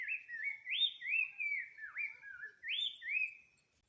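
A bird in a tree sings a continuous run of clear, sliding whistled phrases, rising and falling notes strung together for several seconds, fairly faint against silence with no talk.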